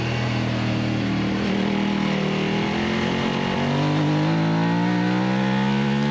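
A Formula 3 race car engine held high in the revs near the rev limiter during an October 2022 race, a loud, sustained whine that rises steadily in pitch, heard from the cockpit.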